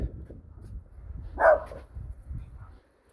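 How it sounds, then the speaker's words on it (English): Dogs bark in a short burst, a sharp yelp standing out midway over low rumbling background noise, fairly close. "Quit having a barking contest."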